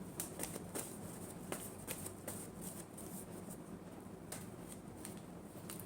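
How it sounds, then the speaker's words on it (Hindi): Tarot cards being shuffled by hand, a soft continuous riffling patter with brief crisp flicks, close and fairly quiet, with no voices. "Last shuffle."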